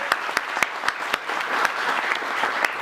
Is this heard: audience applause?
yes